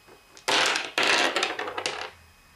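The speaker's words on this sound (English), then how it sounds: "take these two dice and start rolling them" Two dice are rolled across a hard surface, giving two bursts of sharp clattering rattles that tumble and fade, close and clear with no talking.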